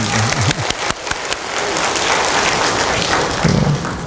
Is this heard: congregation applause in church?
yes